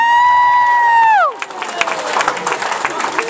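A sustained tone glides down and cuts off, then a crowd at San Francisco Giants FanFest cheers and claps, a moderately loud, scattered mix of shouts and applause.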